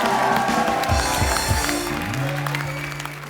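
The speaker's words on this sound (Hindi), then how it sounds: "काजल जी के लिए जोरदार तालियां" Studio audience applause on a Hindi comedy talk show, a broad burst of clapping that carries through, with low tonal sounds and background music rising beneath it and no clear speech.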